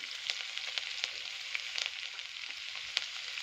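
Grated ginger frying in hot oil with cumin and chili, a soft, steady sizzle with light crackles, fairly quiet and close, no voices.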